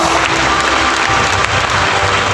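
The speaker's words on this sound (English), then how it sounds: "Let's give them a loud round of applause." A crowd applauds continuously at a school annual day, a dense and steady clatter of many hands clapping with no break throughout.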